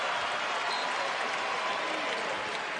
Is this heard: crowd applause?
yes